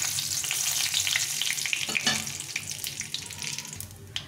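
Dry red chillies, cumin seeds and two bay leaves sizzle and crackle loudly in hot mustard oil, a dense continuous frying hiss with sharp pops, close up and without speech.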